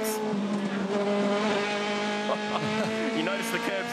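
An Aussie Racing Car brakes hard into a corner at Symmons Plains, its engine note dropping in pitch with a loud sustained whine that fades and shifts while a commentator talks over it.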